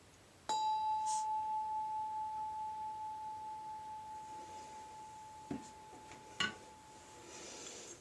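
A small altar bell is struck once with the edge of a blade, giving a clear, pure ringing tone that decays slowly over several seconds, followed by a few faint knocks and clinks.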